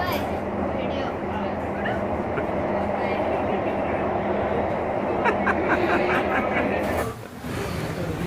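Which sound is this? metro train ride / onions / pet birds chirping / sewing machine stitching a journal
metro train ride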